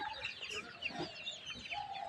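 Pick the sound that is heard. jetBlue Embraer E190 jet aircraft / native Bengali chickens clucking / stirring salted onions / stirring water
native Bengali chickens clucking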